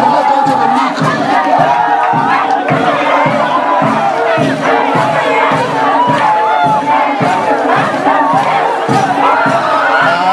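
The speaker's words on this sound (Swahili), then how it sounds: "Wapi makofi yake yafikia tafadhali?" A crowd cheers and shouts at a Kamba community Kilumi dance performance at Maasai Mara University, greeting the vice chancellor. Dense, loud and sustained, with a rhythmic pulse running under the noise.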